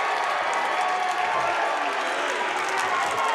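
At a girls wrestling tournament, the South Tama home crowd cheers and applauds in a loud, sustained roar that stays steady throughout, with faint voices mixed into the din.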